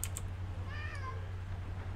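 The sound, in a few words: cat Jasper meowing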